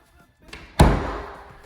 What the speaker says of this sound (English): Heavy doors,